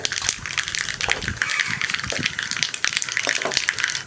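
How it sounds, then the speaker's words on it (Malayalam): Mustard and fenugreek seeds sizzle and crackle in hot coconut oil, a steady dense frying hiss with scattered sharp pops from the seeds throughout, close and fairly loud with no talking. "ഇതിലേക്ക് നമുക്ക് കടുക് ചേർത്ത് കൊടുക്കാം."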